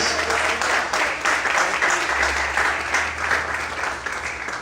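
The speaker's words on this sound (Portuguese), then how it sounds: "Quantos podem aplaudir e exaltar ao Senhor essa manhã?" A church congregation applauds during a Sunday morning service, a loud, continuous wash of clapping that fills the space steadily without voices on top.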